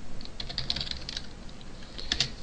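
Fingers type on a computer keyboard in a quick, close flurry of light clicks, with a brief lull midway before a second burst, and no voices.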